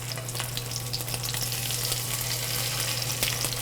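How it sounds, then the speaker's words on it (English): Alaskan king salmon laid skin side down in a hot pan crackles with a continuous dense sizzle, close and steady throughout with no talk over it. "lay this skin side down. And you'll hear that little bit of sizzle"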